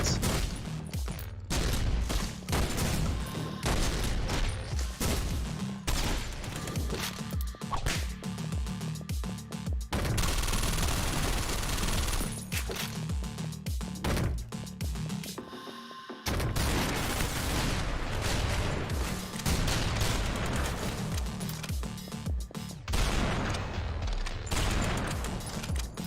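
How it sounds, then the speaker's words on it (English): Rapid, dense gunfire from OTXO, a top-down roguelike shooter, including shotgun blasts, continuing almost without pause over nearly half a minute and broken only by a brief lull partway through. "I just ate a whole bunch of shotgun pellets."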